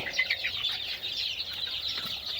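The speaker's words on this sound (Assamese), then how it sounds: "আৰু মোৰ মুৰ্গীখিনি" A flock of chickens fills the air with overlapping high calls and clucks, a busy, continuous barnyard chatter close by, with no speech.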